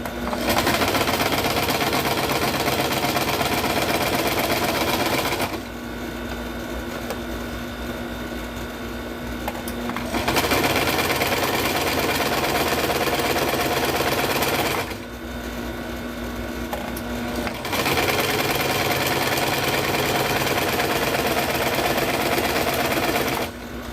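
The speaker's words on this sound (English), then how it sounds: "Juki is like one of the top line Japanese sewing machines" A Juki Japanese sewing machine runs in long, loud, whirring stretches of about five seconds, broken by two short quieter pauses before it starts stitching again.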